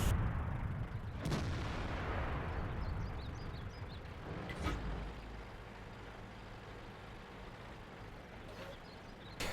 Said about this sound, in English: there is an IS-7 leaving the safe forest and getting shot by our tanks here on the hill.